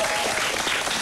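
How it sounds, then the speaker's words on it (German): Studio audience applauding on a German-language live TV show, a dense, steady burst of clapping filling the short moment at close range. "und deshalb einen riesengroßen Applaus für sie."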